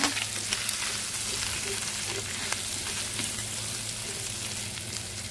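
Chicken gizzards sautéing in a pan for gizzards in red salsa, a loud, dense sizzle that crackles steadily throughout, heard close with no talking.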